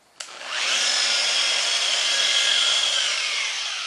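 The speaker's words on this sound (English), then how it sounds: "this is a Metabo fillet grinder and buffer. It smooths the fillets, weld fillets, beautifully" A Metabo fillet grinder with a soft buffing wheel, set very low and smoothing weld fillets, clicks on and then holds a steady, high whirring grind that eases slightly near the end.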